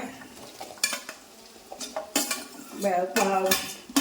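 A spoon scrapes and clanks against a pan while papaya curry with onions and green chilies sizzles underneath, several sharp metallic strokes at irregular intervals over steady frying.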